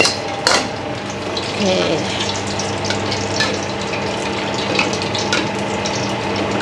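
Sliced onion fries in hot oil in a pan on a gas stove, giving a continuous close sizzle and hiss. There is a brief knock early on, and one short spoken word.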